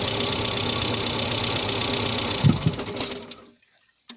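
A classic Dacia engine runs roughly with a steady, uneven mechanical chatter after a vacuum advance pipe is connected, then falters with a few thumps and dies away into silence.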